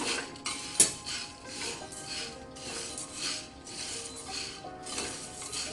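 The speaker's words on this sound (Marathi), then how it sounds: "आता आपण साबुदाणे भाजून घेऊया, आणि साबुदाण्यांबरोबरच आपण काजू बदाम आणि मनुके आहेत ना ते पण भाजून घेऊया" Sago pearls roasting in a pan with cashews, almonds and raisins, a spoon stirring and scraping against the metal in soft repeated rhythmic strokes, with one sharper clink, close and quiet, with no talking.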